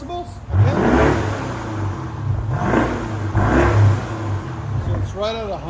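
A BMW 650i with a 4.4-litre V8 and straight-pipe exhaust revs hard in repeated swells, a loud, raspy roar rising and falling about three times, while people talk over it nearby.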